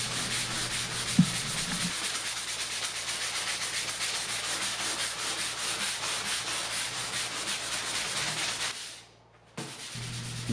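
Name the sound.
sanding whitewashed wooden table with 320 grit sandpaper on sponge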